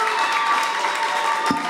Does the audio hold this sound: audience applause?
yes